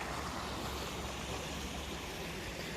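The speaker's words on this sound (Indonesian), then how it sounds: "Ngikutin aliran sungai." A river in a park in winter rushes in a steady, dense wash of flowing water, loud and unbroken throughout with no voices.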